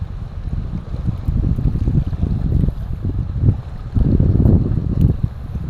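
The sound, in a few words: wind and waves at shore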